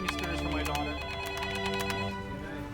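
An office telephone rings in a busy work setting, its bright repeated bell tones steady and fairly loud over a constant background hum, with no one talking.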